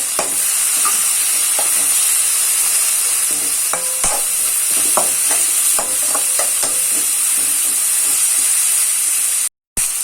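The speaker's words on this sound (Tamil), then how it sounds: "இந்த ஸ்டேஜில் நான் தக்காளியை போட்டு நல்லா வதக்கிறேன்." Tomatoes sautéing and being stirred in a hot pan over fried golden onions for a spicy chicken gravy, with a steady loud sizzle and hiss and scattered spoon scrapes and clinks, close and continuous.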